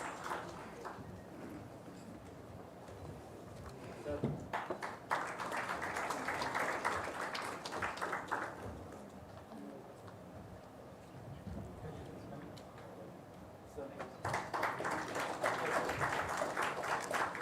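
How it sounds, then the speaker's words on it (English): A workshop audience applauds its panelists in a meeting hall, two fairly faint bursts of clapping a few seconds long separated by quieter room noise and some talk. "Let us please join a hand together for a big round of applause for all our panelists"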